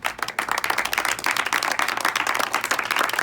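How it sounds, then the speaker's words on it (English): A group of high school cross country teammates claps steadily after a senior speech, with dense, continuous applause at close range and no talking. "Let's clap it up."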